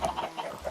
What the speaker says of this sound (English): I've got a bunch of chickens in here.